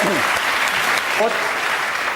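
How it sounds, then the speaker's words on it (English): The studio audience of a comedy panel show gives a short burst of steady applause, with a voice or two briefly heard over the clapping. "Give him a round of applause."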